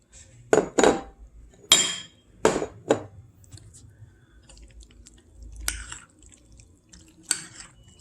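A spoon mixing sago pearls and mango in a bowl for a simple dessert gives a few sharp, close clinks in an irregular rhythm, followed by softer wet stirring and occasional taps.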